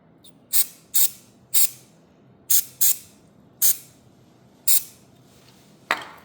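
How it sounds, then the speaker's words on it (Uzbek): Silicone spray hisses onto a Polis-19B lock in short, sharp bursts, about eight separate close spritzes spaced unevenly with quiet gaps between them. "Keyin davomida sprey bor, silikonoviy sprey."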